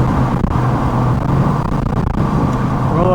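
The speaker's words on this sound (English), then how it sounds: "I'm gonna downshift real quick." A Ford pickup truck engine drones under steady road noise while driving, the engine note shifting slightly as it downshifts, with no voices.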